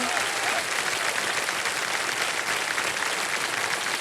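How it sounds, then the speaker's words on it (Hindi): A TV game show studio audience on KBC breaks into loud, sustained applause, a dense steady wash of clapping that fills the room without pause. "तालियां बज जाए जोरदार उनके लिए।"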